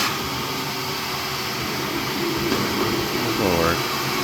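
A vacuum cleaner cleaning out a furnace, a steady loud whooshing drone running throughout, with a voice speaking over it.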